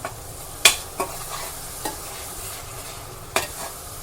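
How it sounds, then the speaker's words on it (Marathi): Masala paste for matar aloo sautéing in oil over medium heat, a soft steady sizzle broken by several sharp scraping stirs of a spoon against the pan. "तेल सुट्टेसपर्यंत पेस्ट परतायची आहे"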